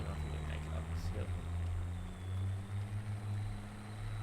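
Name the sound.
loud buggy engine in Spintires video game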